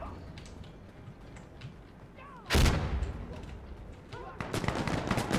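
Gunshots fired through a wall in the video game Insurgency Sandstorm: a low background of distant shots, then a sharp, loud nearby blast midway, followed by more bursts of fire near the end.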